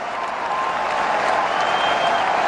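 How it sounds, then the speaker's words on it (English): A big crowd at a Test cricket stadium roars and applauds in a loud, sustained wash of clapping and cheering, with commentary faintly beneath it. "So that single brings up the 400 and a big cheer from the crowd."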